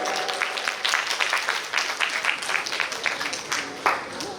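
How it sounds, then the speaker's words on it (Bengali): Audience clapping for a speaker and a woman being handed a cash gift at a Bengali gathering, a steady patter of many hands at moderate distance with uneven bursts, continuing without a break through the clip. "ওনার জন্য এবং পম্পার জন্য একটা জোরে হাততালি"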